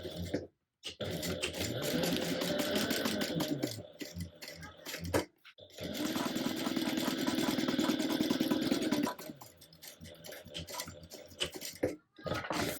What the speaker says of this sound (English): So you're going to top stitch across here.